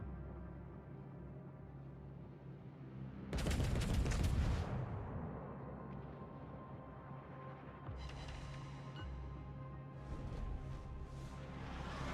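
406mm naval cannons fire in the World of Warships video game: a loud, booming salvo crashes in and rolls on for about a second, then lighter blasts and crackles follow over a steady low engine drone.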